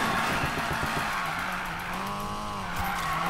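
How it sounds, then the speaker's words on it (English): A Nissan Silvia Spec-R with Rocket Bunny aero kit drifts under handbrake in Need for Speed Payback, loud sustained tire squeal over a droning engine, pitch bending as the slide continues. "I drifted I pushed the handbrake because I thought I was going to go in too far"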